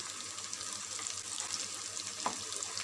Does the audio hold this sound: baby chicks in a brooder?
no